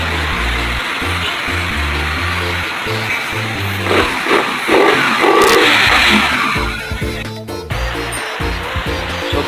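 Suzuki Raider FI 150 motorcycle engine just after a throttle body cleaning, idling close by with a steady low pulse and brief throttle blips midway.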